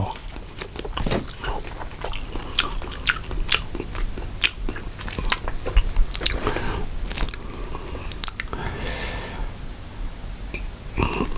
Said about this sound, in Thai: ตัวสุดท้ายเรามากิน อร่อยจริง